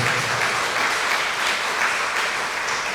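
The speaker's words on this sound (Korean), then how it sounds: "박수로 환영하겠습니다" Church congregation applauds to welcome visiting members, a continuous, even wash of clapping from a large group that fills the room for the full three seconds without pause.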